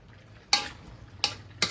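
Chicken pieces for a home-style tinola, sautéed in a pot with fish sauce, give a low background sizzle broken by three sharp bursts of stirring or frying spatter.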